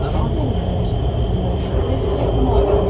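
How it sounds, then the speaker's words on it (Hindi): A Lahore Orange Line metro train arrives at a station behind platform glass doors, a steady low rumble and hum throughout under faint background voices. "ये मेट्रो आ गई"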